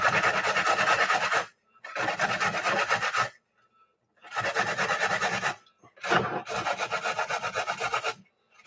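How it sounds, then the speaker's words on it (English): Washed, unpeeled carrots grated on a hand grater in four bursts of rapid rhythmic rasping strokes, close and fairly loud, with brief pauses between, no talking. "I don't peel my carrots. I'm just going to go right in. I've washed them. And then just use my grater."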